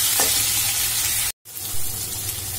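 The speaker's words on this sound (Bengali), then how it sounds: "এবার আলুটাকে ভালো করে একটু ভেজে নেব।" Potatoes seasoned with salt and turmeric sizzle steadily in a pan, a loud continuous frying hiss broken by one brief cut, no voices.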